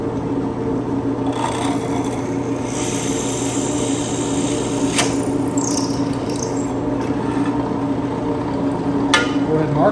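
A power drill whirs steadily and close, its motor droning throughout with occasional scraping and a few sharp clicks.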